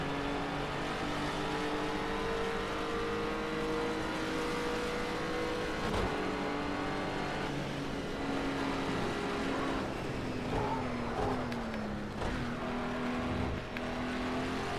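A car engine drones and shifts pitch while driving in a video game, a steady revving hum with gear changes and slight tire and road noise, continuous and fairly close with no talk.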